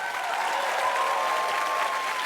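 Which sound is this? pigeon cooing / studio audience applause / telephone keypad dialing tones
studio audience applause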